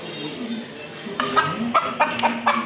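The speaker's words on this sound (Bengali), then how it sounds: "মিশরীয় ফাউমি মুরগি" An Egyptian Fayoumi hen at a bird sale clucks in a string of short, sharp, close calls over a low murmuring background.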